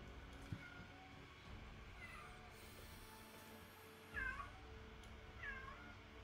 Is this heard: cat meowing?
yes